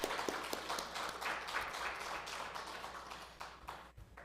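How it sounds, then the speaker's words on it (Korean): Church congregation applauding at a Wednesday worship service, a spread of light, scattered claps that start with a few sharp hits and taper off toward the end. "우리 제동 속회를 위해서 한번 크게 박수해 주시기 바랍니다."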